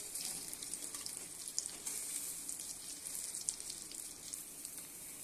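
Egg fritters sizzle in a shallow pan of leftover potato-frying oil, a soft, steady crackle and hiss with occasional brighter pops, quiet and close, no voices.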